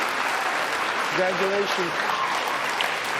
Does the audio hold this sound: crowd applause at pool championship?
yes